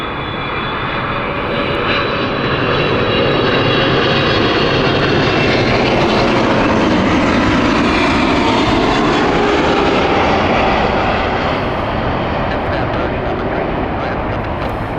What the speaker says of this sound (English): What an elegant landing that was.